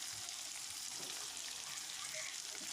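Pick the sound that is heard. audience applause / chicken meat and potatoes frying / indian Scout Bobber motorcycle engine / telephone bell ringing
chicken meat and potatoes frying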